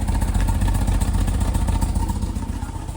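A BMW E36 engine running on its own dedicated car battery, its stock exhaust with rear muffler still fitted giving a steady, rough low rumble with a faint rhythmic clatter, close and continuous throughout with no talking.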